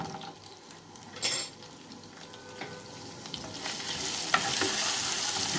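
Garlic sautéing in a pan after chicken kofta, a low crackling sizzle that grows steadily louder, with a sharp utensil clatter near the start and soft stirring scrapes, no voices.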